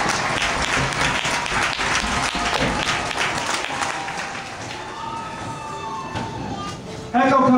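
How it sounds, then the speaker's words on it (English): An audience at an Army basic training Family Day ceremony at Fort Jackson applauds for the honor company, a dense sustained clapping that goes on for several seconds before fading. "Please join me in a round of applause."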